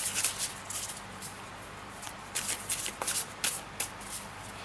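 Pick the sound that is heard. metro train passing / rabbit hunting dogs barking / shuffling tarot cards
shuffling tarot cards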